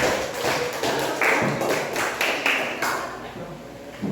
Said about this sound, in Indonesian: Oke, tepuk tangan untuk ketiga.